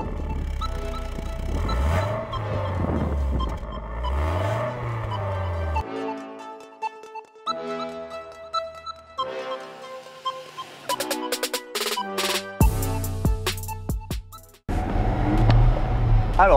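A BMW Z3 1.9 roadster with a 140 hp engine drives on the road, its engine rising and falling in pitch as it accelerates and shifts, loud and close throughout.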